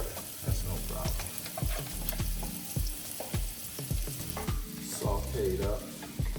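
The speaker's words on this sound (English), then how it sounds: "Take the onions and the green peppers and we'll take that over. And you can saute those together." Onions and green peppers sauté in a pan for beef stew, with a steady sizzle and repeated scraping, knocking strokes of a utensil against the cookware, fairly close and heard alone.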